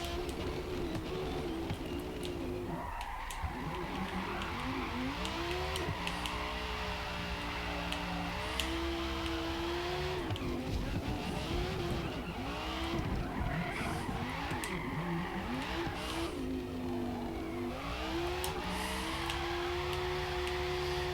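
A Porsche 918 Spyder race car in Forza Motorsport, engine loudly droning and rising and falling in pitch through repeated gear shifts and corners, with tire squeal mixed in throughout a continuous lap.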